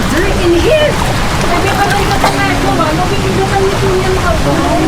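Residents bathe at Bogya Hot Spring in Hungduan, Ifugao, with a continuous rush of flowing water and splashing throughout, and voices talking faintly underneath.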